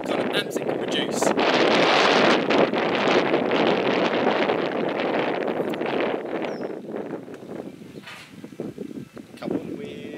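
Steady wind roars and buffets a microphone outdoors around a small homemade wind turbine, a loud continuous rushing that eases slightly toward the end, with faint rustling and no clear voices.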